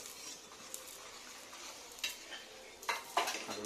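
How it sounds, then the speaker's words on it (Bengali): Onion fritters (peyaji) frying in oil, a faint, steady sizzle with occasional scraping and stirring sounds and light clinks of utensils. "এদিকে পেঁয়াজি ভাজা চলছে"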